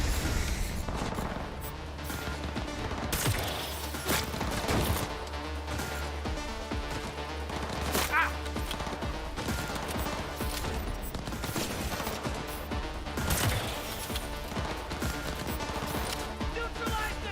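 Gunfire rattles through a Cyberpunk 2077 firefight, dense bursts and scattered heavy shots with crashes and booms layered under game music and voices, loud and nearly continuous.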